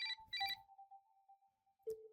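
Quiet electronic phone ringtone from the visual novel Saya no Uta, short repeated melodic beeps followed by a sustained tone and a final lower chime.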